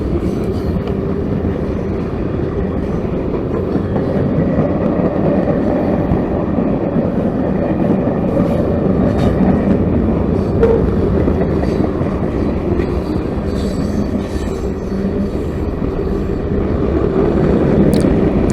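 A CSX freight train loaded with scrap steel rolls past steadily near Waycross, Georgia, with continuous rumbling and rattling of cars along the rails, loud and close throughout.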